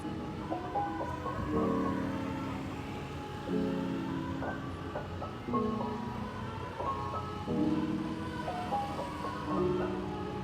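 Telolet musical horn of a bus sounding in several melodic bursts of stacked tones, moderately near, with pauses between phrases over a steady traffic rumble.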